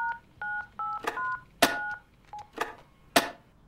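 Touch-tone telephone keypad dialing in a video game: a quick run of short paired beeps followed by a few longer, louder tones, clear and close with no talk over them.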